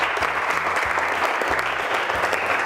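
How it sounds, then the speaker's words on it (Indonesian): A vocational school math class claps for a classmate, a brisk, dense patter of hands close by that runs steadily from start to end, with a low hum underneath. "Tepuk tangan untuk Bapak."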